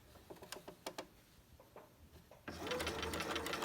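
Sewing machine stitching elastic onto a fabric face mask: a few short isolated clicks and taps of the mechanism, then a steady, loud continuous whir of rapid stitching filling the last second.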